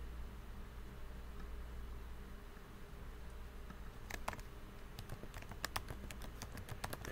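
Typing on a computer keyboard, a quiet steady hiss first, then a string of light key clicks in irregular bursts over the second half, fairly close and soft.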